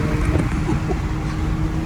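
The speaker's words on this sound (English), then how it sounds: "Too much wind noise, bro. Way too much wind noise" Inside a moving Mercedes CLA45, a dense, steady roar of wind and road noise fills the cabin, loud and continuous with no break.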